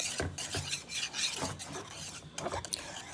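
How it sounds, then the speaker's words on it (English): Whisking vanilla extract into a batter for a stuffed angel food cake, giving soft scraping, rasping strokes against the bowl in an uneven rhythm, close and fairly quiet. "we're going to add 1 teaspoon of a very good real vanilla extract"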